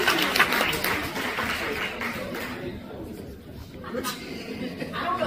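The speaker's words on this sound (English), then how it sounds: "Give yourself a round of applause" Concert crowd at a brewery string band show clapping and chattering together, with laughter and voices mixed into a short burst that thins out toward the end.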